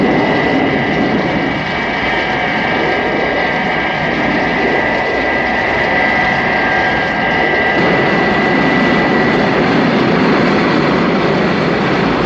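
Thunderbird 2 comes in to land in Thunderbirds, making a loud, continuous heavy-engine roar with a sustained whining hum on top that shifts in tone partway through.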